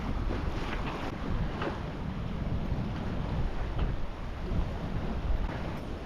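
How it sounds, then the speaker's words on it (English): A sailboat under full headsail with one reef in the main, making nearly 5 knots, gives a continuous rushing wash of water and gusty wind buffeting the microphone, with no talk. "So full head sail, one reef in the main, and yeah, nearly 5 knots over ground."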